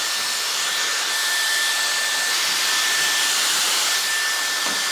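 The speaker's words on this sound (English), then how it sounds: "you'll hear the fan go a little bit louder, which means it's really pumping out air" A Dyson Airstrait hair straightener fan running on a high setting gives a steady, even airy whoosh with a faint high whine. It is close and continuous, with no voice over it.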